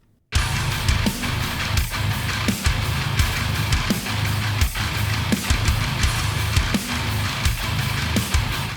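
Thick, heavily distorted high-gain metal guitar through an amp simulator with an impulse response, riffing with steady palm-muted chugs and rhythmic accents, loud and continuous with no voices.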